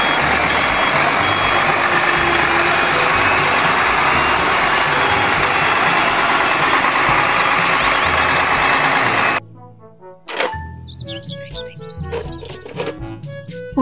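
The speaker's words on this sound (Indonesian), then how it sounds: "Mobil truk molen." Toy cement mixer truck with a loud whirring motor and repeated reversing beeps for most of the clip, then cutting out to leave brief chirpy electronic sounds.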